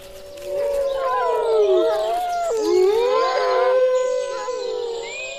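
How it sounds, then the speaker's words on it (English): Wolves howl in the Durmitor Mountains, several long rising and falling voices overlapping into a mournful wild chorus that carries clearly with no talk. "Wolves still roam throughout the Dumitor Mountains, and their howl is a primal call of the wild."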